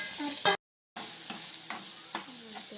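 Tomato pieces go into a pan of frying Kerala-style egg thoran, giving a soft sizzle with a few scraping stirs, briefly cut to silence before the quiet frying resumes.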